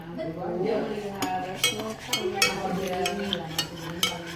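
A small spoon stirs hot tea in a cup, giving irregular light clinks against the rim scattered over several seconds, close but soft, under quiet talking.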